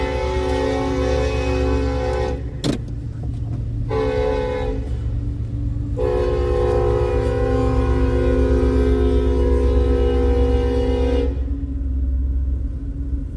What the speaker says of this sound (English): that goddamn train